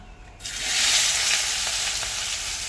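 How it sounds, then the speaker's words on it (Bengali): Onions hitting hot oil left over from frying fish, a loud steady sizzle that bursts in after a brief quiet moment and holds strong and even, close up, with no voices. "এবার আমি ওই তেলের মধ্যে পেঁয়াজ দিয়ে দেবো।"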